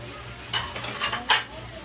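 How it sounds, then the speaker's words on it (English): Bulalo gravy sizzling on a hot plate at a restaurant in Boracay, heard as a few short bursts of crackling sizzle over a low steady background hum, fairly close. "so we got the sizzling bulalo gravy there"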